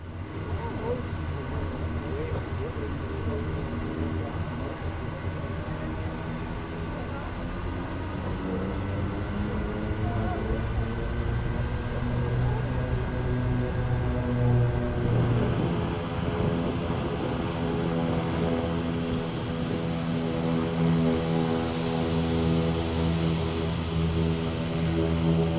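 A Kodiak 100 propeller plane taxis in Microsoft Flight Simulator 2020 in Papua New Guinea: a steady, close engine drone with a layered propeller hum that swells slightly partway through, holding constant without a break.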